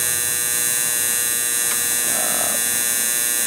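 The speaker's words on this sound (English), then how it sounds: "This is buzzing here because the contact is powered by the 12 volts or 24 volts" A powered contactor in a Carrier five-ton three-phase condenser unit with a dead fan motor gives off a steady electrical buzz, loud and close, with constant mains-like hum throughout and a brief faint extra rattle partway through.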